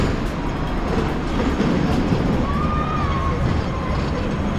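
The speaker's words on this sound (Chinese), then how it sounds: "就看到叮叮火车了。" A Hong Kong Ding Ding tram passes on Hong Kong Island, a loud continuous rumble of rolling wheels with a brief high squeal near the middle and no talk over it.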